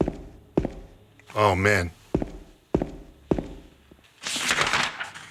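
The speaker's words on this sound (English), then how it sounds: "I wonder if I could turn off the music so that I can get the footsteps too on their own." Footsteps from the video game Silent Hill 2 land as sharp, evenly spaced thuds, about one per second, interrupted by someone speaking briefly twice.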